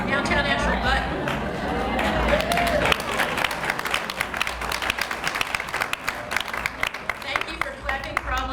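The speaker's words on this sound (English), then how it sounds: "Thank you for clapping." An audience in a room at a talk about downtown Asheville breaks into clapping that swells with crowd chatter, then settles into a sustained round of applause, close and fairly loud.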